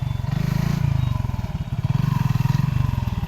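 A motorcycle stuck with its wheel slipping in mud revs repeatedly, a close, pulsing engine drone that rises and falls in bursts, with faint voices in the background.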